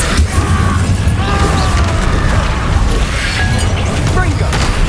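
A Confringo spell explosion in the video game Hogwarts Legacy, heard as a loud, dense, continuous burst of booming, crackling effects that fills the whole moment without a break.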